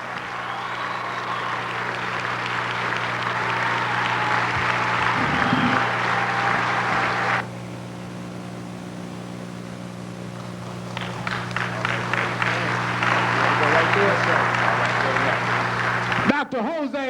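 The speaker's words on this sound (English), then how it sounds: "One more time, a warm round of applause for Dr. Jose V. Pimento Bay." An audience applauds Dr. Jose V. Pimento Bey with a broad wash of clapping that stops abruptly, then swells again. Steady humming tones sit beneath it throughout.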